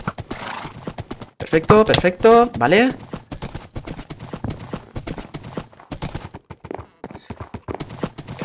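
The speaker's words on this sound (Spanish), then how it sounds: "Caballo es demasiado rápido." Minecraft horse galloping in a Hunger Games server match, rapid clip-clop hoofbeats with a neigh, heard under someone talking excitedly.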